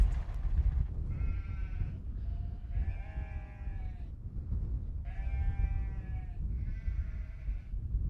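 Sheep on a farm with a flock of about 700 bleat in a string of separate, wavering calls over a low rumble, fairly close and with no talk.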